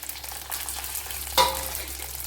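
Ginger, garlic, green chili and curry leaves sautéing in a pan for fish curry, giving a soft, steady sizzle with one brief louder scrape or stir partway through.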